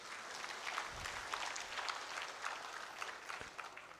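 Audience applause at a professional talk session, a steady wash of clapping from a seated crowd lasting several seconds with no voices over it.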